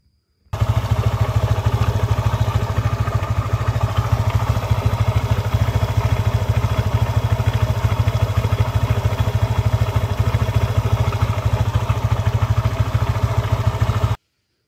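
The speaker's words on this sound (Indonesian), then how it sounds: "ini kita coba nyalakan dulu, karena kalau kerusakan sebatas itu tidak terlalu terpengaruh ke suara mesin yang bergemuruh kasar" A motorcycle engine runs steadily with a rough, clattering rumble, close and loud, holding an even idle throughout with no voices.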